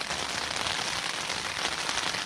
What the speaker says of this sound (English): I just wish this rain would go off.